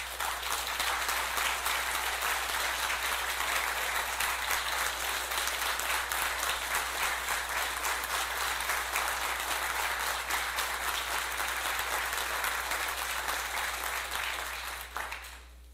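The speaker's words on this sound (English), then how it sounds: "I think she deserves a big round of applause also" Audience applause fills the room, a dense, steady wash of many hands clapping that holds for about fifteen seconds before easing off at the end.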